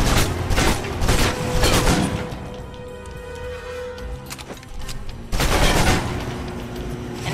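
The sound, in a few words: submachine gun fire in the video game Alpha Protocol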